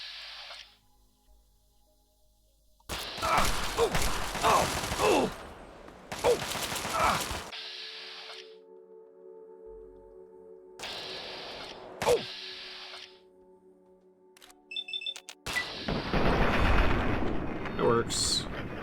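Assault rifle fire in Fallout 3's Operation Anchorage, several loud bursts of rapid shots separated by short pauses, with game background hum between them and a voice speaking over parts of it.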